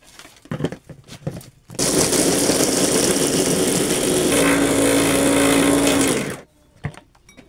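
A blender grinds peanuts, chili, shallots, garlic and palm sugar with a little water into batagor spice paste, a loud steady whirring roar that starts abruptly, holds for about five seconds, then stops, with faint clatter before and after.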